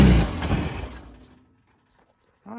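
A 1967 VW Bug engine with a leaking carburetor fires briefly, a loud rough burst that sputters and fades to silence within about a second, followed by a faint knock.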